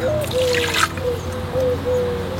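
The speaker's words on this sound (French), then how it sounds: "On va d'abord verser l'eau." Water poured into a Vitamix blender jar while making a white almond-and-lemon sauce: a steady, close trickle lasting a couple of seconds, with a brief brighter splash near the start.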